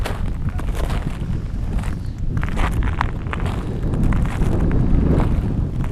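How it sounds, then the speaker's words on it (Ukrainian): Winter wind gusting steadily across a frozen bay of a reservoir, a constant broadband rush with buffeting against the microphone that swells slightly louder toward the end. "Дує, розгулявся вітерець."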